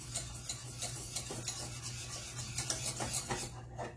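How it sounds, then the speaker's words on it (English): A spoon stirs a thick sweet mixture made with confectioner's sugar in a bowl, a soft continuous rubbing and scraping with light repeated strokes, close and quiet with no voices. "We're just going to keep stirring that."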